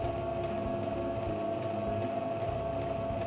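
Domestic sewing machine running steadily while stitching a quilt, a continuous mechanical hum with a faint rapid needle rhythm, close and unbroken throughout.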